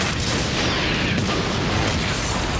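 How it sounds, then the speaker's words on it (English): A dense, sustained rumbling blast roars from a film's action sequence, loud and unbroken for a few seconds with no talk. "This gratuitous explosion"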